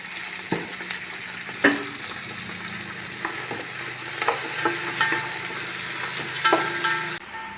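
Onions fry and sizzle steadily in a pan for chicken pulao, with a spoon stirring them in repeated scraping strokes, close and moderately loud, and no talk over it.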